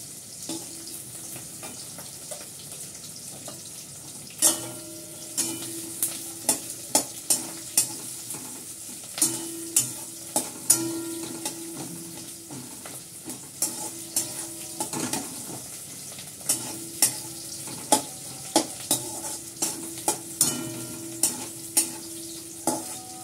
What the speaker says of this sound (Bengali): পেঁয়াজটা লাল করে ভাজা হয়ে গেছে।